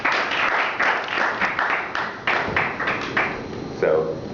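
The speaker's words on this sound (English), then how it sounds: "Here's a big clap for them." Audience applause at a city meeting about Portland watersheds, a room of people clapping steadily for several seconds with bursts of sharper claps, speech faintly mixed in.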